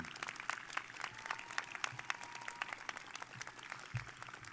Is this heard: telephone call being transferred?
no